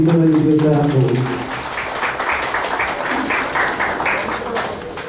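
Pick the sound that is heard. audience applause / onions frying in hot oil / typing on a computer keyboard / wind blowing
audience applause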